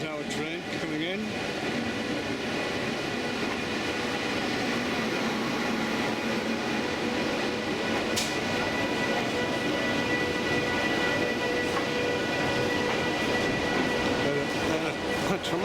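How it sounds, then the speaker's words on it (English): A long passenger train pulls into a busy Delhi station, with a steady, dense rumble and rolling rail noise throughout, a faint horn-like tone and occasional squeals above it. "So here's our train coming in."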